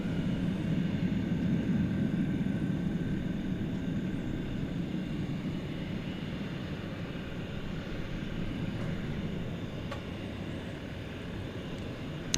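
Cathay Pacific Airbus A350-1000 jet at DFW airport at night, a steady broad engine roar with a low rumble, heard at a distance and fading slightly.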